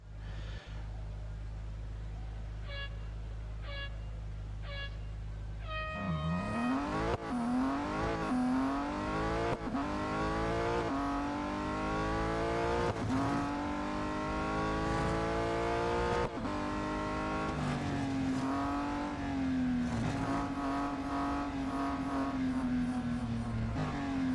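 Race cars on the Dubai Autocross Grand Prix circuit in the Real Racing 3 game accelerate and shift up through repeated rising engine whines after a short idle, a continuous loud racing drone with no talking.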